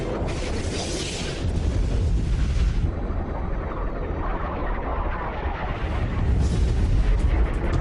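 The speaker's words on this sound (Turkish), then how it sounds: "İkinci füze kuyruğa doğru uçtu ve orada patladı." An air-to-air missile exploding at the tail of a MiG fighter jet, a loud sustained roaring blast with deep rumbling that carries on for several seconds.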